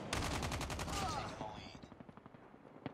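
Rapid automatic gunfire from the Call of Duty video game on the Nuketown map, a dense burst of shots that thins into scattered, fainter single reports, with a faint voice under it.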